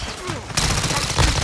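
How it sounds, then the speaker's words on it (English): Gunfire in the shooter Call of Duty: Modern Warfare II, a loud, sudden burst of rapid shots erupting after a brief lull, with a voice speaking over it. "I am getting shot from behind."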